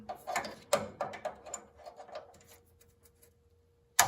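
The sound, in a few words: small vice grips clamped onto MG TD engine part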